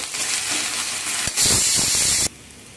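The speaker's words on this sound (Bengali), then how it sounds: "এর মধ্যে এখন আমি আদা রসুনের পেস্টটাও দিয়ে দিলাম, সবকে ভালো করে ভাজা করে নেব" Ginger garlic paste hits onions frying in hot oil in a pan, bringing a loud, close sizzle that swells sharply for about a second before dropping back to a softer steady hiss.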